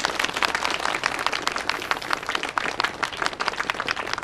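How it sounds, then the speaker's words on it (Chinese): Steady applause from a small group of colleagues in an office setting, greeting a new vice chairwoman with dense, even clapping that lasts throughout without talk. "大家鼓掌欢迎。"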